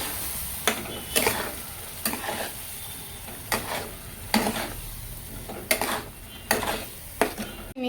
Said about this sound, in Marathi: चला, हे वाटण आपण घालून मग फिरून घेऊया 2 मिनिटं.